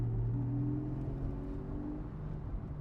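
A Porsche 718 Boxster GTS 4.0 in Sport mode with its exhaust baffles opened drones at a steady, fairly quiet cruise, a low engine hum with a faint rising tone heard from inside the car.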